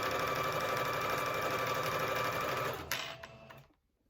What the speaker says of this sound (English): So I'm going to finish sewing this.